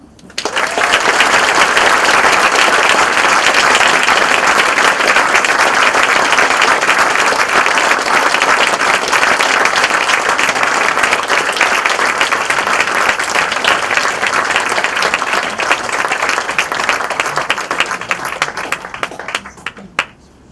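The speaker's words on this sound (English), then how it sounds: "this deserves to be recognised and it deserves to be applauded" An audience at a charity awards ceremony gives sustained applause. The clapping is loud, dense and steady for about twenty seconds, then tapers off at the end.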